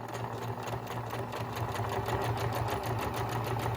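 A sewing machine stitches down the side seam of a homemade fabric face mask, giving a steady close motor whir with fast rhythmic needle pulses that run without pause and without talk.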